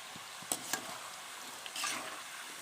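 Jackfruit chips roasting in a pan give a quiet, steady sizzle with a few sharp stirring scrapes and clinks near the start and a brief swell of frying hiss later.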